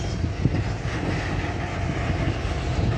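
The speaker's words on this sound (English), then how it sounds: "Finally, I get to see an intermodal." An intermodal freight train led by two EMD SD70ACE locomotives rumbles past steadily at close range, a dense continuous roar of wheels and cars with some wind noise.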